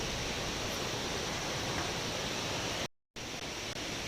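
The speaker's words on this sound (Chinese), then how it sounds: "这里我们来到了一个热水桥的瀑布" Waterfall at Reshui Bridge in the Neidong forest recreation area, a dense, steady rushing roar heard from nearby, broken by one brief total cut near the end.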